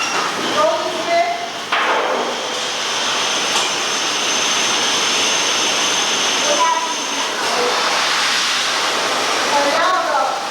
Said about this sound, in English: And now the water will circulate through the pipeline and sanitize the pipeline and the tip cup.